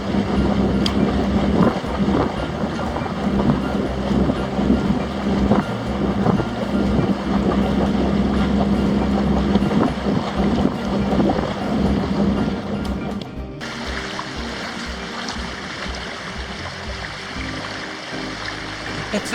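Sailboat motoring north under engine power on a gray, cloudy day, a steady engine drone with rushing water, shifting to a lower, quieter hum near the end.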